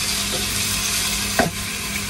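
A steady, bright sizzle of onions browning in oil in a pan, continuous and close, with a brief scrape of a utensil stirring partway through.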